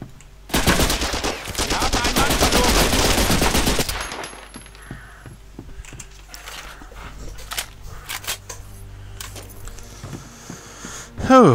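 Sustained automatic gunfire in the shooter video game Operation Thunderstorm: a loud, rapid burst lasting about three seconds, followed by scattered single shots, clicks and footsteps, ending in a sharp bang.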